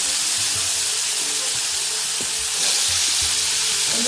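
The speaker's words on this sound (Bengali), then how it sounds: "এবার এই একই তেলে আমি করলা আর আলুগুলো ভেজে নেব।" Bitter gourd and potato pieces fry in hot oil, giving a steady, loud, dense sizzle throughout, with occasional faint clinks of a utensil underneath.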